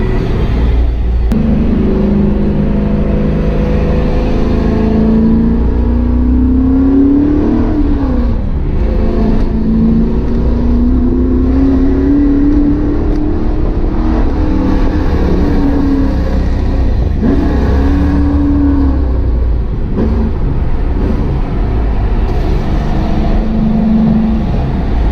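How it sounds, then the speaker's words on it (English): A supercharged LT1 V8 in a 1995 Pontiac Firebird Trans Am idles loud and close, with repeated throttle blips swelling and falling over a steady rumbling, whirring drone, no voices. "I keep on blipping the throttle. Every time I let off the throttle, I'm clearing out the engine basically."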